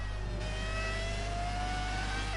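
A 2004 Ferrari Formula 1 car in the F1 2019 video game at the Australian Grand Prix, its engine revving high and steady with a rising whine, loud and continuous, no speech.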